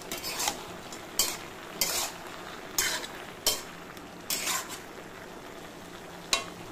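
Bata fish with green chilies is stirred in a pan for a bottle-gourd dish: a series of sharp, separate scraping strokes of a spatula against the metal over a faint sizzle, with no speech.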